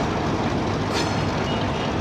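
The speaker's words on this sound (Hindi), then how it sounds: "रवाना हो रही है 125 अब लसानी एक्सप्रेस।" Lasani Express 125UP train pulling out of Lahore station, a steady broadband rumble of wheels and carriages holding loud and close throughout, with no voices.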